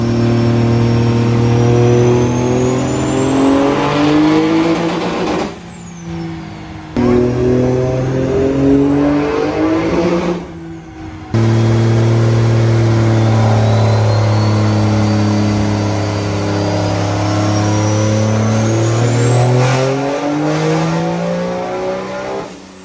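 A diesel truck on stock rims doing a burnout at a rural diesel event: loud, close engine roaring and revving with rising whine, sustained for long stretches and broken by a few brief drops in power.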